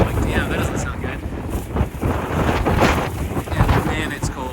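Strong, cold wind on the Appalachian Trail buffets the microphone in heavy, uneven gusts, with a voice faintly audible beneath the rumble.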